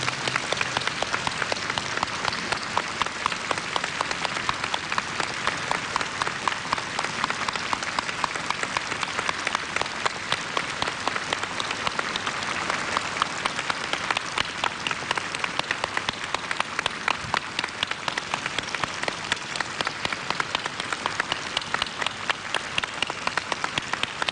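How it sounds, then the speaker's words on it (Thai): Long, loud applause from a large audience at a Buddhist leadership award ceremony, a thick, unbroken roar of clapping that holds steady for over twenty seconds with a faintly pulsing texture. "ขอเสียงปรบมือเป็นกำลังใจนะครับ"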